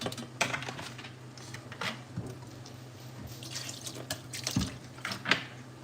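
Tap water running into a kitchen sink while raw chicken legs and pieces are rinsed before seasoning, a steady low wash with scattered splashes and drips, close and alone without talk.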